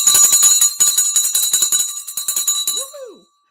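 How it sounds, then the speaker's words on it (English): Stock market closing bell ringing rapidly in a long run of sharp metallic strikes, loud and close, fading out near the end with a brief whistle-like cheer afterward. "this bell is coming here in 3, 2, 1"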